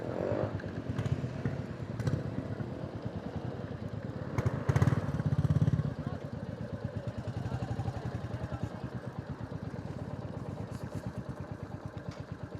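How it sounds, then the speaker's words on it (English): A crowd of motorcycles idles at a club gathering, giving a steady, low, uneven putter with light mechanical clatter. The engines sound fairly faint and continuous, with no clear talk. "Look at all the bikes here today."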